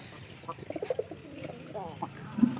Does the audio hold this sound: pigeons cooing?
yes